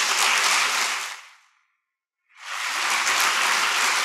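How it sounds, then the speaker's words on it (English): Audience applause, a dense crowd clapping that fades out to silence for about a second, then swells back up to full, sustained clapping. "Feel free to give that a round of applause as well."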